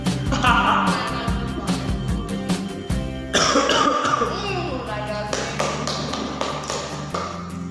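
Someone coughing after eating kerupuk crackers, with several sharp coughs and throat clearing mixed with taps, thumps and lively talk from people nearby.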